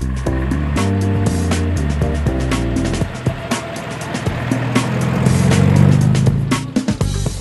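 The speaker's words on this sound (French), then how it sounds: "Ah, c'est une Aston Martin DB6." An Aston Martin DB6 shooting brake drives past at a Swiss lakes classic car rally, its engine note rising and falling loudly amid road noise and other passing vehicles.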